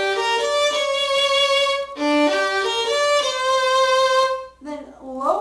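Violin plays two connected Gypsy Waltz phrases, practicing high and low second-finger notes with smooth slurred bowing, close and clear, followed by a brief spoken voice at the end.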